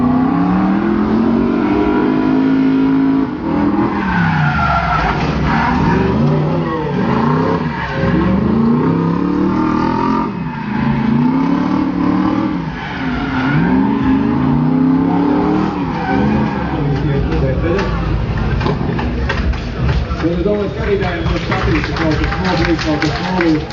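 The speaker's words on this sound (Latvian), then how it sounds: "Mēs dzirdam BMW skoņi." A BMW drift car slides around the Bikernieki track at a drift event, its engine revving hard in repeated rising and falling surges over squealing, skidding tyres, loud and continuous while a commentator talks throughout.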